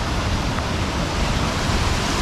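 A wide waterfall at Kuldiga, Latvia, pours in a constant, loud broadband rush of falling water, steady and close with no pauses or voices.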